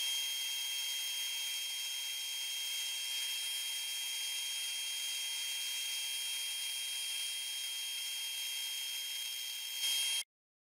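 Accu-Slice system shaving ultra-thin veneers from a wooden board, giving a constant high, thin whine with a steady hiss that runs evenly for about ten seconds and then stops abruptly.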